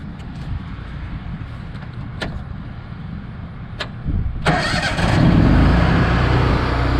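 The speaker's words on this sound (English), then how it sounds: "Gotta crank the generator first for it to work." A Miller welder-generator engine cranks with a few short starter bursts, then catches at about four seconds and settles into a loud, steady running roar.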